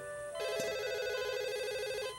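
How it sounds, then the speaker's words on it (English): A telephone rings close by with a loud, steady electronic warble that sustains for about two seconds, with no voices. "then the phone rang"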